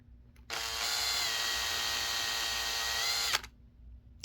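A power drill whirs steadily at high speed for about three seconds, close by, starting and stopping abruptly with no one speaking.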